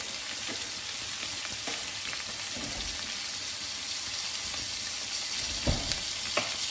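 Bacon fat sizzles and fries steadily in a pan, a continuous crackling hiss with a few brief clinks and stirring sounds toward the end.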